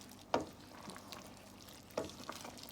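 Kitchri rice being stirred in a cooking pot over medium heat, two or three scraping knocks of the spoon against the pot over a low simmer, quiet and close.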